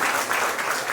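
An indoor event audience claps in a dense, continuous burst that stays steady and fairly loud through the short moment, with no voices over it.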